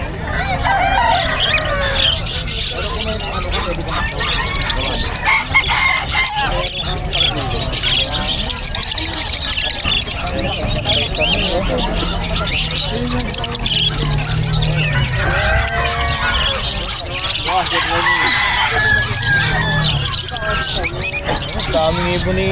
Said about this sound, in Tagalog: Daming ibon ni Boss Marvin, no?